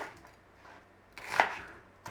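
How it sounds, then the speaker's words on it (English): A knife chops red onion into cubes on a board beside a bowl, one crisp near cut standing out against a quiet kitchen background. "cubing the onions in our bowl"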